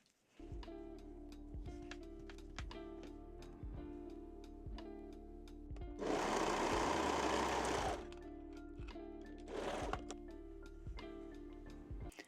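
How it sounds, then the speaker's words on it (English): A sewing machine stitches the crotch seam of lace panties with a straight stitch, a steady close ticking run punctuated by two louder, denser bursts of fast stitching, with no voices. "pin and sew the crotch seam"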